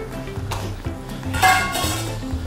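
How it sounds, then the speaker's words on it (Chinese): A spatula scrapes and presses minced pork flat in a frying pan, with clinking metal and soft sizzling in a busy, close kitchen. "用铲子把它压一下，压扁"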